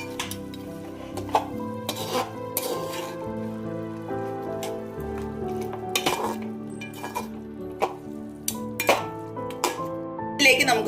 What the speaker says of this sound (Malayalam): കുരുമുളക് പൊടി ആഡ് ചെയ്തതിന് ശേഷം നമുക്ക് നന്നായിട്ട് അതിനെ മിക്സ് ചെയ്തെടുക്കണം